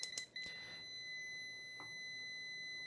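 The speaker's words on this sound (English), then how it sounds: "You can hear the multimeter beeping" A multimeter beeping during an electronics repair, with a continuous steady tone running through the whole stretch and a few short clicks and bursts near the start.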